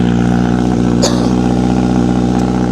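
A Honda CBR1000RR-R SP motorcycle engine runs loud and close, holding a deep, steady, aggressive roar for the whole stretch with no pause.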